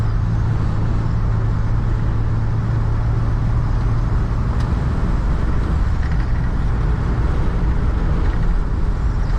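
A 1988 Dodge Ram B250 Safari van cruising around 50 mph, heard from inside the cabin as a loud, constant low road and engine roar with broadband wind noise and no talking.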